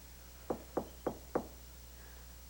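Four evenly spaced sharp knocks on a locked plexiglass door in a secret room, close and distinct in a quiet space, followed by a faint tap.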